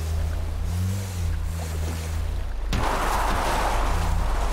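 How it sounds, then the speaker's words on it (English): Low motor drone of a small dinghy in GTA V with water and wind rush, which swells into a broader splashing wash partway through. "We're on a boat."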